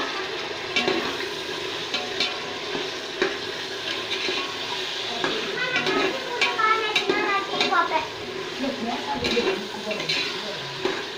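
Tomatoes sizzle and get stirred in a pan while a mushroom biryani is cooked, with a steady frying hiss, scraping stirs and occasional clinks throughout, heard close.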